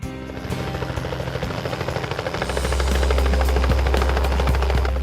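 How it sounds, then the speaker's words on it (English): Helicopter on a heli-hiking flight to Berg Lake, a loud close rotor chop pulsing steadily, then a deeper, heavier engine drone swells in as the aircraft powers up, with no talk. "I'm going to be taking the helicopter and it's going to be awesome."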